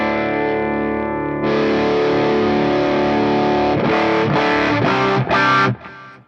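Electric guitar on the bridge pickup through a high-gain amp-in-a-box distortion pedal, a loud sustained distorted chord ringing out, then several choppy strummed hits before it cuts off.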